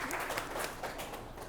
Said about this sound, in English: a nice round of applause for Michael, please.